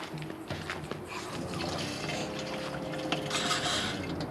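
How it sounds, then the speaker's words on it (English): Water runs steadily from a tap as a composting toilet container is rinsed out, a continuous close splashing rush with no speech. "we're just going to give it a bit of a quick rinse out under here."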